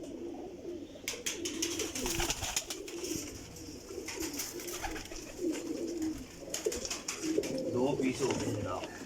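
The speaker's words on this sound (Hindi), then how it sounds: "बहुत शानदार कबूतर जे, टैडी कबूतर काली दोमुश" Flying pigeons kept in a loft cooing in low, repeated rolling calls, fairly close, while someone talks over them and sharp clattering knocks break in at intervals.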